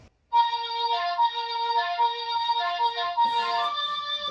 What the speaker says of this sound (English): So this is the Melotron Flute